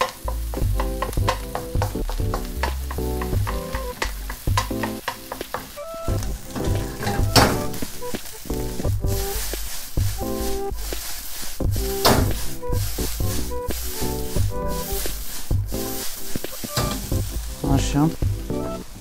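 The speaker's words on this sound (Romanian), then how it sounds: "Spargem ou și acum punem și orezul." Rice stir-frying with egg in a pan, with loud continuous sizzling broken by frequent scraping and clattering of the utensil against the pan in an irregular rhythm.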